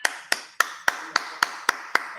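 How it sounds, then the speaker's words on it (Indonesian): Eight evenly spaced sharp claps in a classroom setting, crisp and fairly close, with a quiet room between each. "Beri tepuk tangannya."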